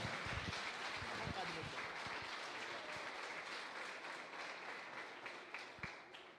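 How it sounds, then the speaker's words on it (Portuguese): A church congregation at a Sunday service applauding, with a dense, steady wash of many hands clapping that slowly fades toward the end, some voices mixed into the crowd noise. "Receba o servo de Deus aplaudindo o Senhor bem forte"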